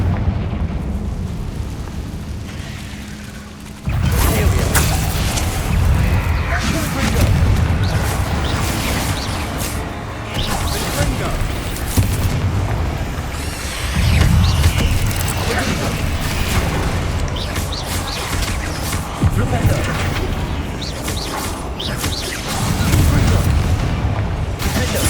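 The Confringo explosive spell in the video game Hogwarts Legacy: loud, deep rumbling booms and blasts that carry on as continuous combat noise, with voices mixed in.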